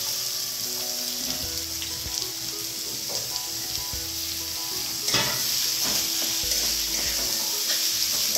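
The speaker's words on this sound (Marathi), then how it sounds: "आता आपण यात कांदा घालून घेऊया." Chopped onion for a baby prawn masala sizzles steadily in a hot pan with chilli, ginger and garlic, a close, constant crackling fry with scattered pops and faint stirring, no voices.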